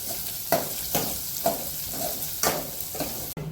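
Chopped onions and green chillies frying in a pan, an even sizzle broken by regular scraping stirs roughly every half second, close by with no talking.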